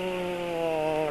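A Honda-treated engine held at high RPM with the revs hanging instead of dropping, a steady close droning whine that stays level and loud throughout, no voices.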